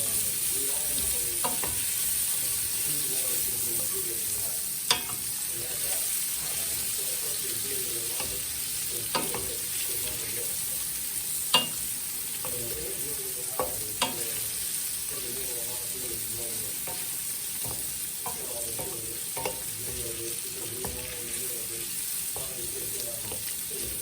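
Cut sausage cooking for gumbo, a steady pan sizzle with a spoon stirring and scraping, sharp clicks and knocks against the pot at intervals, with no talk over it.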